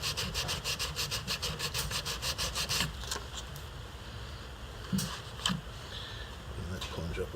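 Knife blade being polished with rapid back-and-forth rubbing strokes, a rhythmic rasping series that stops partway, followed by quieter scattered scrapes and brief handling knocks; a voice is present.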